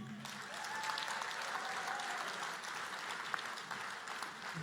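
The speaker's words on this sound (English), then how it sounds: "Let's give a sterling round of applause for our executive" An audience at the Barbados Labour Party annual conference claps steadily for its executive, a faint, even wash of applause heard at a distance with no voices over it.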